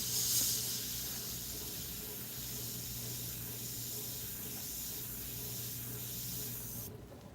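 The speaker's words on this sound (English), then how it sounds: "I'm going to spray mostly on the film." An airbrush sprays paint onto film while painting a rose, a steady close hiss running unbroken for several seconds and cutting off abruptly near the end.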